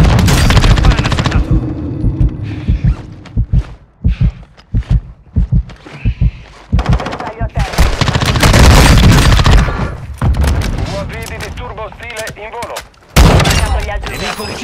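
Gunfire in a Call of Duty match: loud, close bursts of automatic fire and single shots with booms, broken by short pauses, with some game voice and background noise mixed in.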